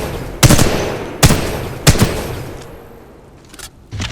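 Weapon fire in Titanfall 2 during practice: three loud, sharp gunshots spaced under a second apart, each with a decaying tail, then quieter distant shots.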